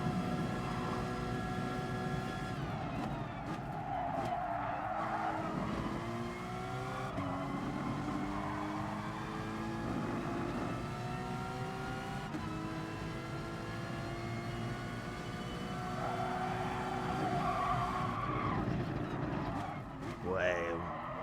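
A race car in the Gran Turismo video game, engine droning at high revs with shifting pitch as it brakes and loses rear grip, steady and continuous, with a voice talking over it.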